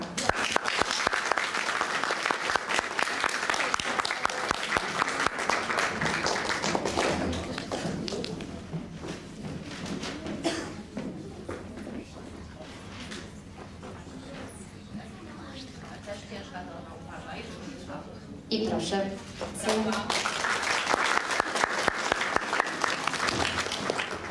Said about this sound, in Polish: Jak tak, to bardzo głośno klaszczcie.